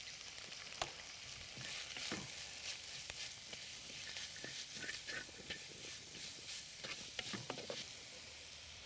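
Small shallots, about 250 grams, fry in hot oil in a pan with a little salt, giving a steady close sizzle with irregular crackles and pops throughout.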